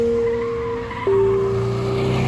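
A sustained high tire squeal from cars skidding on a skid pad at a track day, its pitch dropping sharply around the midpoint, over a steady engine rumble, loud and fairly close.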